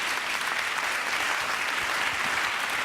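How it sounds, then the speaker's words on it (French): An audience at a Forum d'Avignon debate gives steady, full applause that stays at an even level throughout, with no voices standing out. "je crois qu'on peut les applaudir bien fort"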